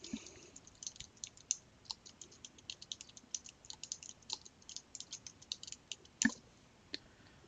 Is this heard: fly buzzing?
no